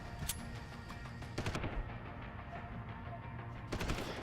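Combat rifle fire in Deus Ex: Human Revolution: rapid automatic bursts crackle at moderate volume, with sharper volleys near the start and end and steady firing between them.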